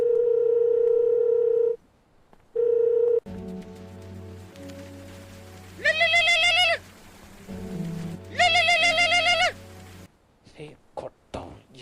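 A telephone call being placed: a steady dial tone, a pause, then ringback tones with two distinct bursts of ringing over a low hum, ending in short clicks.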